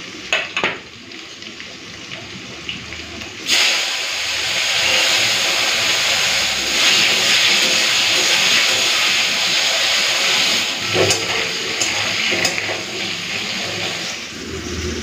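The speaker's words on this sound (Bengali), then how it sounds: "উচ্ছেটা দিয়ে দিই তেলের মধ্যে" Bitter gourd dropped into hot oil, the sizzle surging loudly after a few seconds of handling noise and holding as a continuous close hiss.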